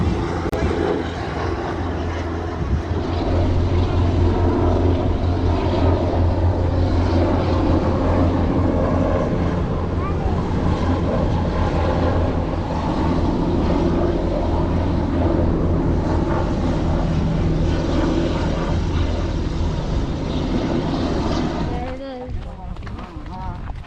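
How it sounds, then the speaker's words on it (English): Several Marine helicopters circle over the Chichen Itza grounds, a steady loud rotor and engine drone holding for most of the stretch under ongoing talk, then cutting off near the end. "see the multiple helicopters that were"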